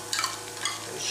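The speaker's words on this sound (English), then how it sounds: "After putting the tin tomato, you allow it to fry" Tinned tomato frying in a pot for a Nigerian plantain gravy, a brief soft sizzle with a couple of stirring scrapes, fairly quiet and close.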